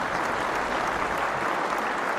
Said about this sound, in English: A big round of applause for Michael.